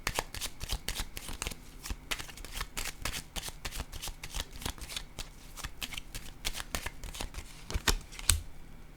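Cards shuffled rapidly and repeatedly by hand during a tarot reading, a dense run of crisp riffling flutters and snaps that carries on steadily, close and fairly loud, with no talk over it.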